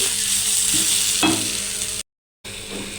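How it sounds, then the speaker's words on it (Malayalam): Washed prawns sizzle steadily in a hot pan, a dense close frying hiss with a couple of stirring scrapes before the sound cuts out briefly and resumes. "അപ്പോൾ കഴുകി വെച്ചേക്കുന്ന ചെമ്മീനൂടെ ഞാനകത്തിട്ടിട്ടുണ്ട്. അത് ഇവിടെ നിന്ന് നന്നായിട്ട് വേവട്ടെ."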